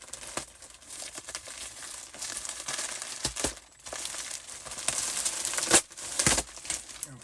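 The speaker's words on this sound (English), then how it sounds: "let me go ahead and rip this open" An Ice Yarns plastic shipping bag is torn open and handled up close, loud crinkling and crackling plastic with sharp rips and rustles in irregular bursts.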